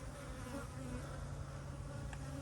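Honey bees buzz around hives at an apiary, a soft, continuous droning hum with no voices over it.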